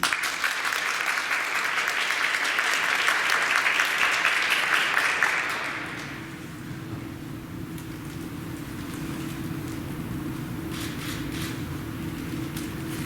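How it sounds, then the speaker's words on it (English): An audience at a women's honor ceremony applauds second-year honorees, dense sustained clapping for about five seconds that then dies away into a quiet room with a low hum and a few scattered claps. "Please give a round of applause to our second year honorees."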